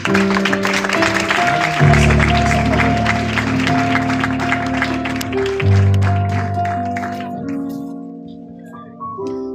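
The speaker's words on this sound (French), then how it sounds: "Est-ce qu'on peut applaudir le Seigneur, s'il vous plaît?" A church congregation claps to praise the Lord while sustained keyboard or organ chords ring underneath. The clapping is steady and moderately loud, and it slowly fades as the chords shift and linger.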